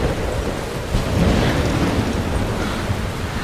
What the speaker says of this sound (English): It's raining outside. What's happening? I'm trapped in a storm?